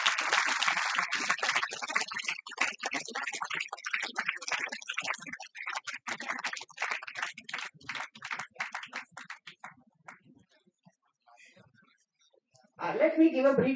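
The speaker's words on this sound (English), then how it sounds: "Give a huge round of applause." Dense crowd applause fills most of the clip, gradually thinning into scattered claps before a voice starts talking near the end.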